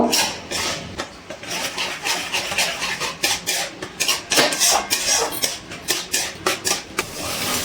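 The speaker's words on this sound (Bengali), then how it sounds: "গ্যাসের ফ্লেমটা একদম লোতে রেখে সব মশলার সাথে টক দইটা মিশিয়ে আর একটু কষিয়ে নেব" Whisked sour yogurt being stirred into fried spices in a pan over low flame, heard as rapid, rhythmic spatula scrapes and clinks against the pan, close and continuous, with no talking.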